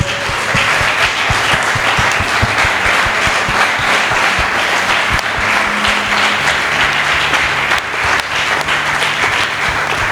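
A church congregation applauds loudly and steadily throughout, a dense wash of clapping with a low musical hum and faint voices beneath it.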